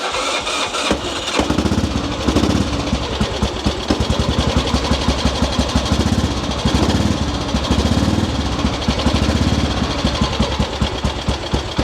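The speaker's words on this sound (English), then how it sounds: "And we'll get the bike running." A motorcycle engine started with the compression release and starter button fires up after a short crank, then runs with a fast rapid thumping beat, close and loud, throttle blipped at intervals, no one speaking.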